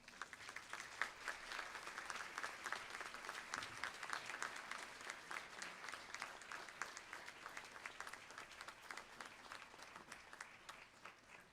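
A graduation ceremony audience applauds and cheers its own support over the years, a long, dense wash of clapping from a large crowd in a hall, fairly distant and sustained throughout.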